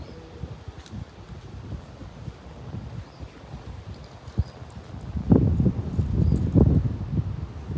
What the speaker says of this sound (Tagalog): Grabe, sobrang mahangin.